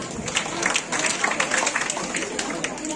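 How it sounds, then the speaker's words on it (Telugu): Audience applause at a children's dance performance and gift ceremony, a steady wash of clapping that runs the whole three seconds at moderate loudness, with voices mixed in underneath. "చప్పట్లు కొట్టు"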